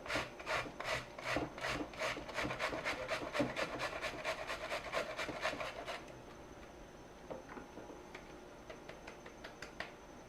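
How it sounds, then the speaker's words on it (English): Cauliflower being grated by hand on a box grater for keto pizza: quick rhythmic rasping strokes, close and fairly quiet, fading into softer scattered scraping near the end. "we're going to take the cauliflower and a grater. You don't need a food processor, and we're going to grate this cauliflower down."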